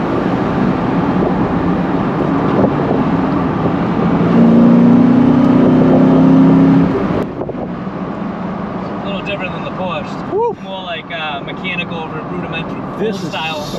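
A 1999 35th Anniversary Ford Mustang accelerating in traffic, its engine note climbing steadily for a few seconds before cutting off, followed by people talking inside the car over a quieter background.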